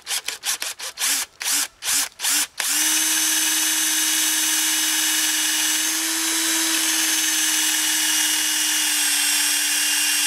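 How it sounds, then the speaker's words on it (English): An electric drill fitted with a 5/16 bit bores a tap hole into a maple tree, starting with several short, choppy bursts, then settling into one long, steady, loud whine that runs on to the end. "Not really supposed to use electric drill."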